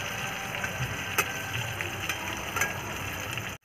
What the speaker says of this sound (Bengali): পটল ভাজাটা আমার লাল লাল করে ভাজা হয়ে গেছে